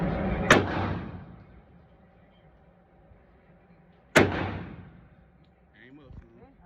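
Two sharp handgun shots ring out at an outdoor shooting range, spaced about three and a half seconds apart, each a loud close crack with a short echoing decay, followed by faint talking.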